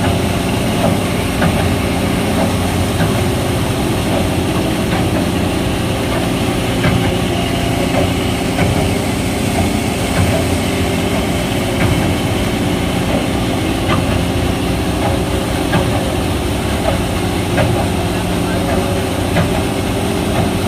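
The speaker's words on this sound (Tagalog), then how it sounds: "So yan po yung dambuhalang makina. Kung tawagin ko ay trash skimmer dito po sa Manila Baywalk" A large trash skimmer machine's engine runs steadily at Manila Bay's Dolomite Beach while the vessel strains in shallow water, giving a loud, continuous droning rumble with water churning, unbroken throughout.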